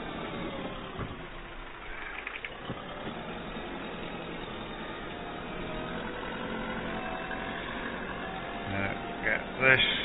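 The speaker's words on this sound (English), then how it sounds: "the tractor with the" Massey Ferguson 580 tractor engine running steadily on a farm while barley seed is loaded for tilling, a continuous mid-low drone that stays level throughout, with a brief louder clatter near the end.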